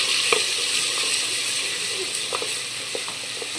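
Garlic paste sizzles in hot oil with fried onions, a steady close frying hiss broken by small crackles and pops, with no talking.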